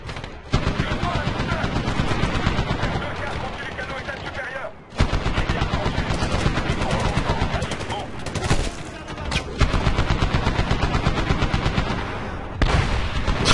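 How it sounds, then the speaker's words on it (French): Machine gun fire in the Medal of Honor video game rattles in loud, rapid, sustained bursts, broken by a few brief pauses, with heavy gunfire close up. "Donc on va devoir faire taire cette mitrailleuse"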